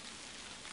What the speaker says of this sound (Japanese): 雨が降ってきた。